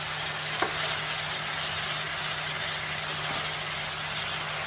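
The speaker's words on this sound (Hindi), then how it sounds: "एक मिनट में हम हाई फ्लेम में इसको कड़छी चलाएंगे" Cabbage, peas and carrots fry over a high flame while a ladle stirs them, making a continuous loud, dense sizzle with a low steady hum beneath and one brief scrape early on.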